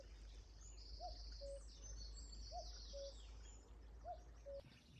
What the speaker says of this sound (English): We are hearing a common cuckoo right now, and they're quite rare.